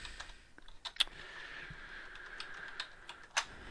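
Someone types on a computer keyboard in a quiet room, producing a string of soft, irregular key clicks with a few louder, sharper strikes. No one speaks.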